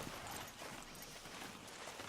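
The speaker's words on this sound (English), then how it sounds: "Load Anders onto the back of your horse there" Horse hooves clip-clop at a steady pace in the video game Red Dead Redemption 2, a continuous rhythmic thudding heard fairly close against a constant ambient background with no talk.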